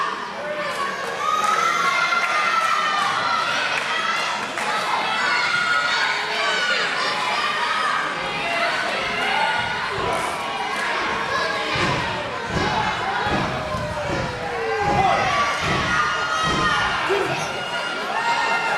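A crowd at a live wrestling event cheers and shouts continuously, with children's voices, scattered thuds and slams from the ring, and a commentator talking over the din throughout.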